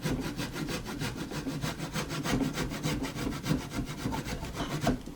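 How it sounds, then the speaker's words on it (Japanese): A Japanese handsaw cuts wood for a carpentry joint in rapid, even rhythmic strokes, about four per second, heard close and alone for several seconds. "ノコギリを当てて切ります"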